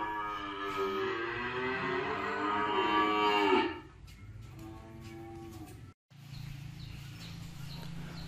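Cattle low loudly at a Vietnamese cattle sale in Trà Vinh, one long drawn-out moo swelling for several seconds before fading into quieter lowing and background din, with faint bird chirps.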